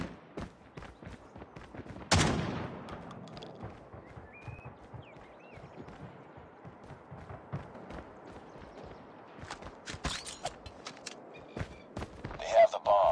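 Gunfire in a Call of Duty: Mobile Search and Destroy multiplayer match, with a loud burst followed by scattered shots, impacts and game effects continuing throughout.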